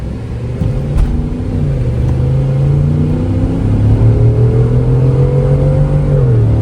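A car with a new Corsa exhaust revs up loudly nearby, its deep exhaust note climbing and holding in a rising, throaty drone.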